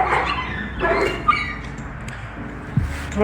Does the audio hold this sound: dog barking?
yes